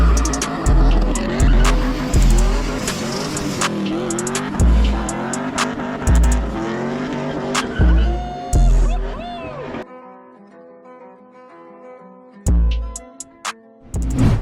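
A Lexus LS400 convertible with rear suspension work, sliding with loud repeated tire squeals and revving engine bursts nearby, then a brief quiet spell before more squealing, with voices shouting over it.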